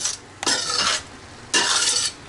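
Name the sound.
onions sauteing in a pan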